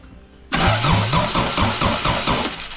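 A 3S-swapped race car engine cranks, with the starter whirring in a fast rhythmic chug of repeated compression pulses, loud and close, with no catch into idle.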